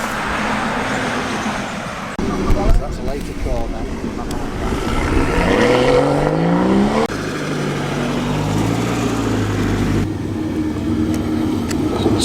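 A TVR Cerbera pulls away from a car meet, its engine note climbing steadily as it accelerates, with people chatting nearby throughout.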